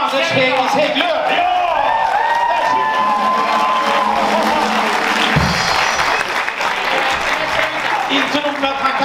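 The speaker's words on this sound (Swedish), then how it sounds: "liten applåd för vår eminent dirigent Anders Hägglöf." Concert audience applauding and cheering for the conductor, a loud sustained wash of clapping with whoops and crowd voices throughout, steady from start to finish.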